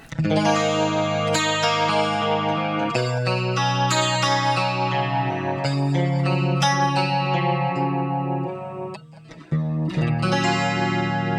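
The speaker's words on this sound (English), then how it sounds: "we're going to choose this tri-chorus, which is based on a Diatronics unit" A clean electric guitar plays chords and arpeggios through a tri-chorus effect modelled on a Dyatronics unit, drenched in lush, wide shimmer, sustained and continuous with a brief dip near the end.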